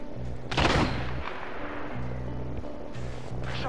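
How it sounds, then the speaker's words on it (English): Gunfire in the battle royale game Apex Legends: one loud, close burst of shots rings out early, followed by fainter scattered reports over a steady low droning background. "Shots fired at me."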